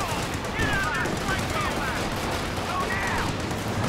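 Game gunfire crackles in dense bursts while players shout excitedly over it, shooting at a rack, with continuous chatter and the firing layered underneath for several seconds.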